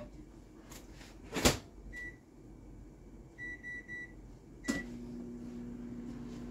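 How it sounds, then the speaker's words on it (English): A few electronic keypad beeps and a clunk, then a steady low hum as a microwave oven starts running, close by with no talking. "I'm going to do 5 minutes in microwave."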